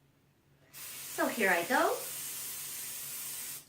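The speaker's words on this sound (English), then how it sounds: "I'm going to spray it thoroughly, making sure that I get every square inch of this pan" Nonstick baking spray hisses steadily from the can onto a cake pan for about three seconds, close and loud, while a voice speaks briefly over the start.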